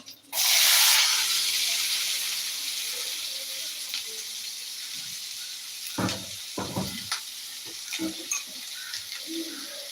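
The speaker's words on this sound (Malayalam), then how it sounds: "ഓക്കെ ഉള്ളി ഇതിലേക്ക് ഇതായിട്ട് കൊടുക്കാം" Onions tipped into hot oil in a pan for chicken spring rolls, with a loud burst of sizzling at the start that settles into quieter frying, broken by clattering stirs and scrapes near the end.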